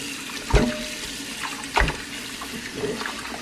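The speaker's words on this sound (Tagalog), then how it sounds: "Tapos, ngayon hugasan ko siya ng malamig na tubig." Cold tap water is poured over boiled chicken, giving a couple of short splashing gushes against a low running-water background, fairly close and without speech.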